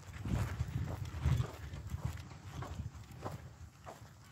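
A horse walks along a rough path on private land, its hooves clip-clopping at an even walking pace, close and moderately quiet.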